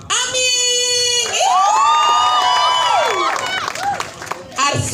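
Crowd cheering and whooping with scattered clapping at a film press conference, loud high shouts and squeals rising over the audience, with a brief pause near the end before the noise returns.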